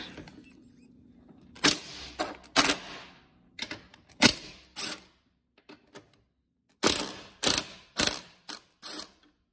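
Ratchet wrench clicking in short bursts while loosening 13 mm nuts on the upper front shock mounts of a Porsche Cayman 987, close and loud with brief pauses between bursts.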